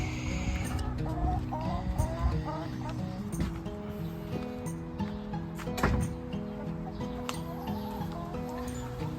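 Hens cluck and cackle in a steady, busy chorus close by, with rooster-like calls and other farmyard noise mixed in throughout.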